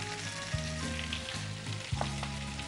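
Garlic paste sizzles in mustard oil with bay leaf, dried chili, cumin and asafoetida after onion paste, a steady soft crackle with a couple of stirring scrapes, close and fairly quiet.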